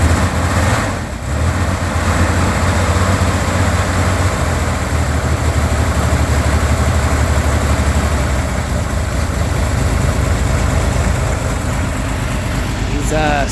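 A 1965 Chevrolet Corvair Monza engine idles loud and close after a cold start in chilly weather, a steady, uneven rumble with its carburetors loading up on fuel.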